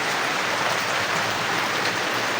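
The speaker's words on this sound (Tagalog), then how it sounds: "Ano? umulan pa magbabalot na sana ako eh" Steady rain falls outdoors during a spell of packing orders, producing a continuous, fairly loud even hiss that holds without a break throughout, with no one speaking.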